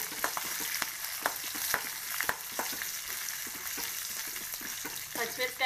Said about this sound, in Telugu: పచ్చిమిరపకాయలు వేగాలి